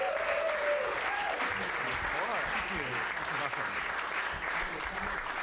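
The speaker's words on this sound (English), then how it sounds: "give a huge round of applause for our next storyteller." A small storytelling-show audience applauds for the next storyteller, Sean Ewert, with steady clapping throughout, mixed with cheers and voices.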